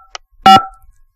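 One short electronic keypad tone sounds from a telephone while dialing a 555 number, with a faint blip just before it and quiet after.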